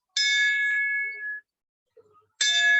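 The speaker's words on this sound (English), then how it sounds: "That's the old bell." An old bell at a Jakarta street vendor strikes twice, each a bright metallic ding with a long ringing tail, separated by a short pause with a faint knock between.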